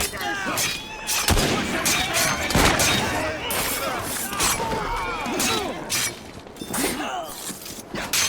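Gunfire in Assassin's Creed Syndicate, with sharp, loud shots and cracks going off repeatedly across the whole stretch amid a busy clattering action scene, while voices shout over the action.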